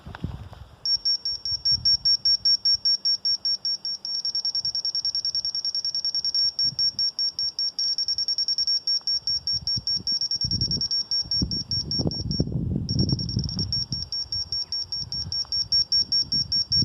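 A laser level receiver's rapid, high electronic beeping repeats in steady bursts with short pauses, loud and close, while low handling noises and rustling sound underneath, at a swimming pond construction site.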